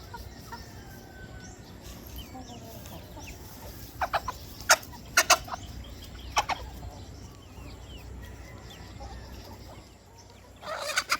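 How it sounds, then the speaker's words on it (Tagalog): Scattered chicken clucks ring out in a handful of short, sharp calls against a steady outdoor rumble, with a louder flurry at the end. "Yung manok ko pumatong sa kay Dapol guys oh"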